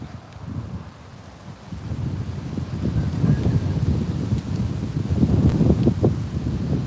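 Wind blowing outdoors beside a pond during bass fishing, a steady low rushing roar against the microphone that swells louder midway and stays strong, with no talking.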